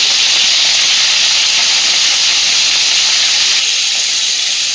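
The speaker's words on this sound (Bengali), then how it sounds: "মা পটলগুলোকে আগে সুন্দরভাবে ভেজে নেবে" Pointed gourd (potol) pieces frying in hot oil with turmeric give a loud, steady hiss with no pauses from start to end.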